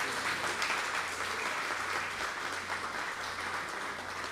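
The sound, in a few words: applause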